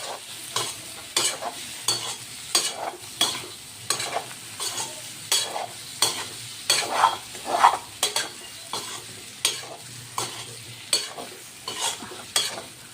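Potatoes with gram flour fry in a pan, a soft sizzle running underneath while a spoon stirs and scrapes in a steady rhythm of short, close strokes roughly every half second.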